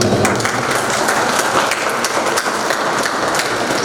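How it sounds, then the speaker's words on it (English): An audience at a management school HR conclave applauds an attendee, a steady, loud wash of many hands clapping that fills the whole stretch without a break. "So, big round of applause for that."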